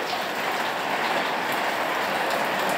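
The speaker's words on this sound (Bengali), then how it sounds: "আবারও বৃষ্টি চলে আসছে," Steady rain falling outdoors on a dark, overcast morning, heard as an even, dense hiss of drops that holds at a moderate level for the whole stretch.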